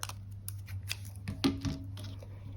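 Scissors snip through a cowboy boot sticker in a few quiet, close cuts over a steady low background hum.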